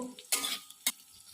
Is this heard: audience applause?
no